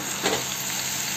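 Tomatoes being stirred into fried spices in a frying pan for chole, with a steady close sizzle and a brief louder stirring swell early on, no voices.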